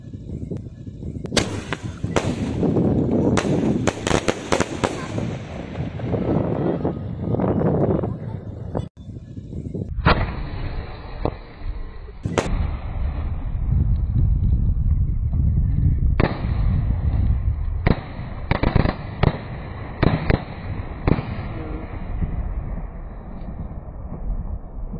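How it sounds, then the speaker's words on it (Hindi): A Kok Big Sky Shot Palm Garden firework ignites and bursts in a string of sharp, loud bangs and crackling pops, with clustered blasts early and more spaced bursts later. "अब इग्नाइट करते हैं कोक के big sky shot palm garden को, देखते हैं किस तरह डिस्प्ले इसमें देखने को मिलता है"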